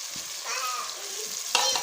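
Fish pieces dropped into a pan of masala curry sizzle and crackle steadily, with a few soft stirring clicks and a sharper burst near the end, close and moderately loud with no talking.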